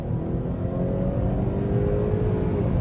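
A 2019 Honda Accord 2.0T accelerating hard from a standstill to 60 mph with its front wheels spinning, a steady engine roar rising in pitch from inside the cabin.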